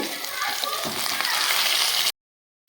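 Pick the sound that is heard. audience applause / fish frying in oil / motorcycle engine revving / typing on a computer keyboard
fish frying in oil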